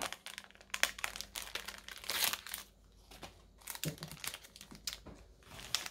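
Plastic sticker packets from a stationery haul crinkle and tear open close by, in uneven bursts of rustling with brief quieter gaps.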